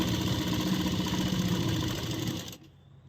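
A sewing machine runs in a steady rapid whir, stitching a lined kurti along its fitting mark, close and continuous before cutting off abruptly near the end.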